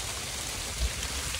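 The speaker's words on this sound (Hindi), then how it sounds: "भयंकर बारिश शुरू" Steady heavy rain hissing across a wide band, dense and continuous, with a brief low thump partway through.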